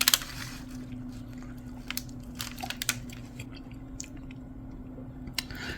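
Keto pizza with a chicken crust being chewed up close, soft crunchy bites and moist mastication clicks scattered irregularly over a quiet low hum, no talking.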